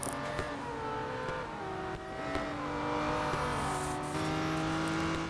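A 650-horsepower Aston Martin DBR1-2 race car engine in Real Racing 3, droning steadily at high revs with a couple of gear shifts, loud and alone without talk.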